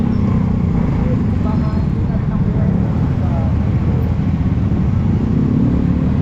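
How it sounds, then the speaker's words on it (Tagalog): Road traffic in the rain between Talisay and Tanauan, a steady low engine rumble from slow, congested cars and motorbikes, continuous and close throughout. "Traffic na alam dito, traffic."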